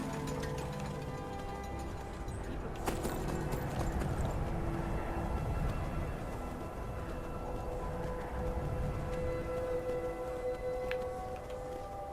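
Hooves of a horse in Skyrim clip-clop in a steady rhythm beneath a constant ambient game soundscape, with a sharp click near the start and a faint tone later, with no talking.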